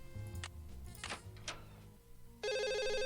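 A telephone rings in the Nancy Drew game Stay Tuned for Danger, a loud electronic trill starting abruptly near the end after some quieter clatter and movement.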